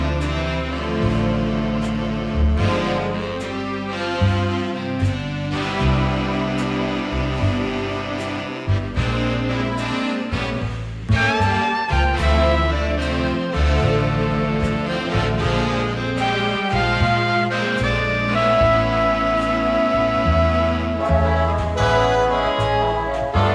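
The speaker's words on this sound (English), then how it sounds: "In the 40s, we still see an expansion of jazz music" 1940s jazz recording, a slow dance number with dense full-band instrumentation, steady and loud throughout with no talking.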